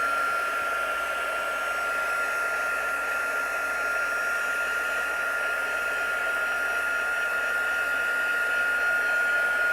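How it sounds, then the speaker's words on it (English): A heat gun blowing steadily to dry stenciled paper for a card, a constant close whirring hiss with a high whine, continuous and unchanging throughout. "I'll probably hit it with my heat guns so that I can make sure that it's dry"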